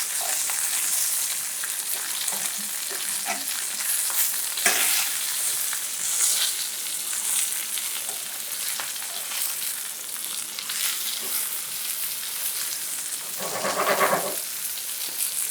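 Food browning in a hot frying pan gives a steady, loud, broadband sizzle across the whole stretch, broken by occasional spatula scrapes and pops, with a brief louder burst near the end and no talking.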